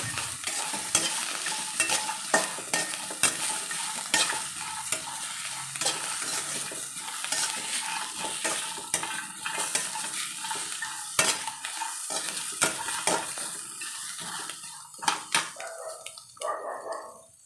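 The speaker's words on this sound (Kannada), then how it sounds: "ಫ್ರೈ ಮಾಡ್ಕೊಳ್ಳೋಣ ತುಂಬ ನೀಟಾಗಿ ಸಿಮ್ಮಲ್ಲಿ ಇಟ್ಕೊಂಡು ನಿಧಾನವಾಗಿ ಬಾಡಿಸ್ಕೊಳ್ಳೋಣ" Mango and pennywort leaves fry slowly on a low flame for chutney, a close steady sizzle broken by frequent stirring scrapes and clicks of a spoon against the pan, with a dog barking faintly at times.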